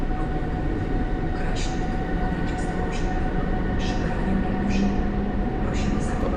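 PESA Dart Intercity train arriving at Warszawa Centralna station, a loud continuous rumble of rolling wheels and a steady mechanical hum in a large underground hall, with faint squeals and clanks over it.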